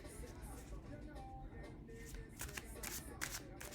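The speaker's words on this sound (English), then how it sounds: "Let me keep shuffling." Quiet, close tarot card shuffling with soft riffles and snaps near the end, over a faint murmur of background noise.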